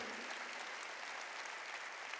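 Church congregation clapping hands during a Korean sermon, a steady, even patter of many hands heard quietly and continuously without a break.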